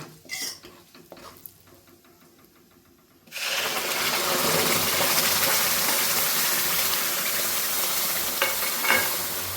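A spoon scrapes and stirs a ground spice paste in an oiled pan for a few seconds, then a loud, steady frying sizzle over low heat takes over and continues to the end.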